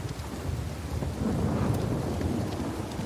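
Heavy rain and rolling thunder on an island in the video game Uncharted 4, a dense steady downpour under a deep continuous rumble that swells midway, with no voices.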